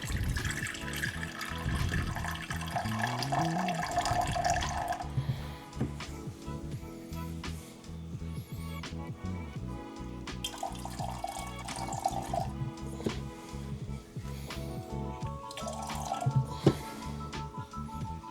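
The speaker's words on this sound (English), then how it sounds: "I'm going to start out with measuring 8 ounces, or 1 cup of RODI" RODI water runs and trickles into a measuring cup, a close, fairly quiet pouring and dripping sound with shifting tone as the cup fills, with no talking.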